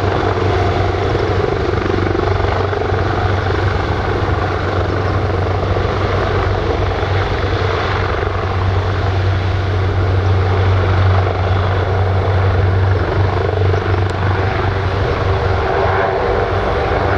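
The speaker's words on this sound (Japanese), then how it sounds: "高知県消防防災航空隊のレオナルド AW139 です。" Leonardo AW139 fire and disaster-prevention helicopter of the Kochi Prefecture aviation unit at Takamatsu Airport, a loud steady rotor and turbine roar that stays constant and close throughout.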